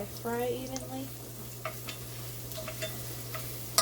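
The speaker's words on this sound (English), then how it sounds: "I'm gonna go ahead and throw my green onions in. And I'm just gonna spread them around so they fry evenly" Chopped green onions frying in hot oil in a pan, a steady close sizzle with occasional light stirring taps and scrapes, no talking.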